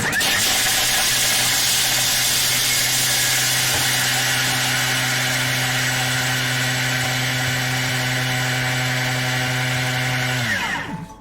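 A loud, steady Thermomix grates parmesan cheese at speed 9 for about ten seconds, then winds down and stops. No voices.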